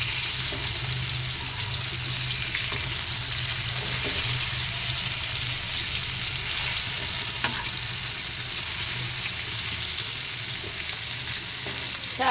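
Fish pieces fry in oil on a flat pan with a constant close sizzle and crackle, while occasional soft scrapes and knocks come as the pieces are turned over.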